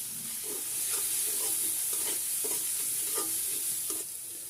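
Shrimp frying with spices in a pan while being stirred, a steady sizzle with repeated scraping strokes of a spoon at an even rhythm, close and continuous with no talk.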